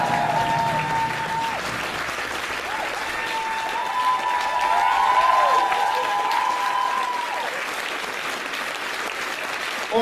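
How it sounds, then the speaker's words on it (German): Audience applause at a rock concert, a steady dense wash of clapping lasting throughout with some tonal sound threading over it. "Gebt einen besonderen Applaus"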